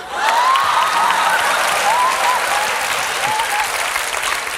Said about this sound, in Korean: 뭘 박수를 쳐요